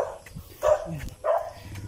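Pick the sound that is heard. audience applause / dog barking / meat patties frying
dog barking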